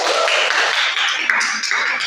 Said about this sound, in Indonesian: Jadi beri tepuk tangan semuanya dulu.